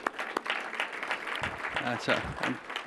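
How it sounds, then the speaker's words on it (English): A round of applause for new board members at a ribbon-cutting event: scattered claps from a modest crowd, with talking and voices mixed in over the clapping. "Let's give them a round of applause."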